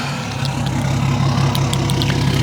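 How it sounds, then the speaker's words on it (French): BMW 330d E91 diesel engine running, a steady low rumbling throb with a faint clatter on top, close and continuous. "On va écouter la sonorité de la voiture."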